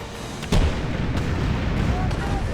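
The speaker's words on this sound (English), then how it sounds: "Launch some cannons" Cannons firing in the pirate game Tempest, one sharp boom followed by rumbling battle noise and a few fainter thuds, loud and close.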